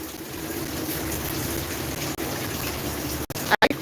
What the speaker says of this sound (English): I harvest the rainwater.